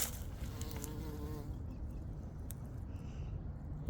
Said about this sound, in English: there's a bee going to town